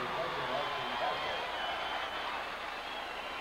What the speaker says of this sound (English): Listen to this crowd at the Coliseum.